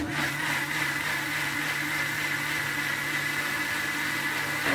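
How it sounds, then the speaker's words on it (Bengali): A blender whirs steadily at close range, churning a paste blended with tomato sauce and milk, with a constant motor drone and no pauses or speech. "তারপর এটাকে আবারও আমরা ভালোভাবে ব্লেন্ড করে নিব।"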